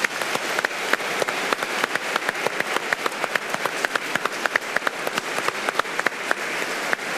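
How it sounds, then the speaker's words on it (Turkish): Studio audience at a Turkish TV debate show breaks into steady applause, a continuous dense wash of clapping with sharper individual claps punctuating it throughout. "Hem Cumhuriyet'i hem de Aziz Atatürk ve Cumhuriyet'i kuran silah arkadaşlarını bir kez daha alkışlıyorum"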